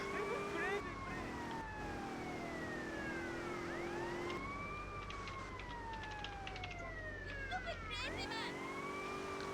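A police siren wails in repeated rising and falling sweeps in GTA Vice City, loud and continuous, with a faint voice talking underneath.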